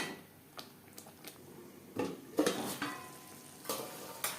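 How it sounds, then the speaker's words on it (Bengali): Spices for a hilsa fish and potato curry sauté in a pan on a low-medium flame, with soft sizzling and intermittent clinks and scrapes of a spatula, close and fairly quiet. "লো টু মিডিয়াম ফ্লেমে চার পাঁচ মিনিট মশলা কষিয়ে নেব"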